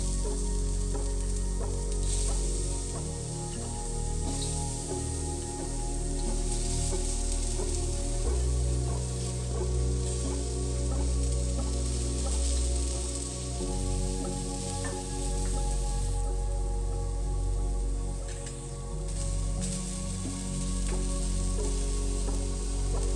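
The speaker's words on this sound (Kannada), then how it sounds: "ಸ್ವಲ್ಪ ಆಯಿಲ್ ಹಾಕ್ಕೊಂಡು ಫ್ರೈ ಮಾಡಿದರೆ ಬೇಗ ಚೌಳಿಕಾಯಿ ಬೇಗ ಫ್ರೈ ಆಗುತ್ತೆ" Cluster beans fry in oil in a pan with a steady, continuous sizzle and occasional stirring scrapes, close and fairly loud, with no voices.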